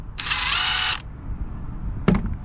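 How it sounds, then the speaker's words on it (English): A power tool whirs loudly for about a second, then stops; after a short pause comes a brief clattering burst, near and clear, with no speech. "We'll use this impact wrench here"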